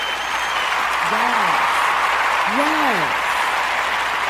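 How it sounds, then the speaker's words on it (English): Audience applause greets the intro of the Sister Speak Show, a steady wash of clapping running the whole way through while a voice speaks briefly over it. "Let's give them a round of applause for producing a wonderful, wonderful intro for the Sister Speak Show"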